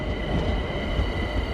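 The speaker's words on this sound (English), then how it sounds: "even a freight train" Freight train creeping very slowly along rails at Clapham Junction on a chilly day, giving a steady, dense low rumble that holds evenly throughout with no voices.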